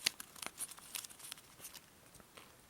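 Paper is folded and creased for an origami horsefly, with soft crinkles and short crisp rustles clustered in quick bursts, close and faint.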